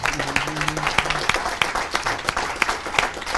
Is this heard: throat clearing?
no